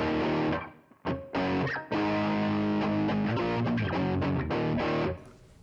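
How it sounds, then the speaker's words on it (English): A distorted electric guitar through a Fractal FM3 amp modeler plays loud, sustained chords with a couple of brief gaps near the start before ringing out and fading at the end. "And then I got a distortion."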